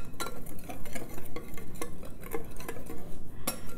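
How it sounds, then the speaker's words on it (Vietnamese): A whisk scrapes and taps steadily in a bowl as salt and sugar are mixed into flour for Hue-style bánh ép, a continuous rhythmic scratching with sharper clinks against the bowl. "Đánh cho nó muối với đường nó trộn lẫn vô trong bột các bạn"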